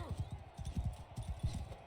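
Horse hooves in Mount and Blade II Bannerlord, a medieval battle game, form quick low clip-clop thuds in an uneven galloping rhythm, close and moderately quiet against a faint ambient background.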